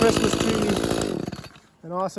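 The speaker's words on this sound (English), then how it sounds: "Trusty Echo chainsaw, 33cc." An Echo 33cc chainsaw, a light saw used for cutting Christmas trees, runs with a loud, close, buzzing two-stroke rattle that winds down and idles away, followed by a short burst of speech.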